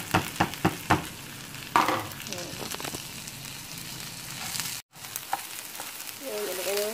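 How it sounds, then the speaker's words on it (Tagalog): Rice and chicken cubes stirred in a hot pan, a dense sizzling hiss with rhythmic scraping and clacking strokes of the spoon, steady and close, with a voice speaking faintly at moments. "Haluin lang natin."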